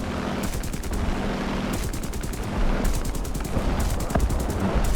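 A tank's machine gun in the War Thunder game fires in repeated rapid bursts, each rattling stream lasting about a second, loud and close over a constant engine rumble.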